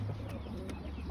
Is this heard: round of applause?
no